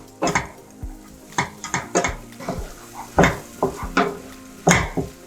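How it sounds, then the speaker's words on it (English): Aromatics being stirred in a pan as the base of a spicy egg curry, with a utensil scraping and knocking the pan in a dozen or so uneven strokes over a soft sizzle, close and without talk. "I'm giving it a good stir"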